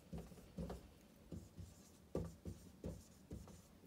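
A pen writing a sentence on paper, faint close scratchy strokes in short irregular bursts, alone with no talk.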